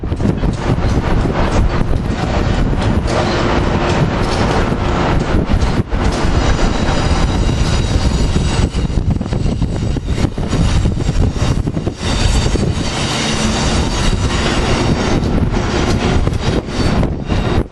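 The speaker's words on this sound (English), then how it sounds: "Here we have regional train 148 AM 7909 leading." A regional passenger train led by a cab car roars past close by, a loud continuous rumble and rattle of wheels with wind buffeting the microphone throughout.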